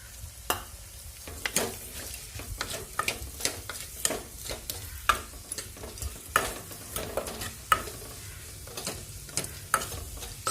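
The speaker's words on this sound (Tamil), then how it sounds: "இப்போ வந்து வெங்காயத்தை கொட்டிடலாம்." Onions frying in a pan for a tomato chapatti gravy, a continuous sizzle broken by repeated sharp spatula scrapes and clacks at an uneven rhythm, close and clear with no talking.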